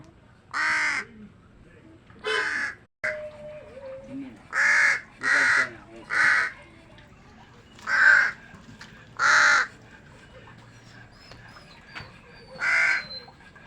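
Crows caw repeatedly, loud harsh calls coming in spaced bursts, some doubled, over a quiet outdoor background.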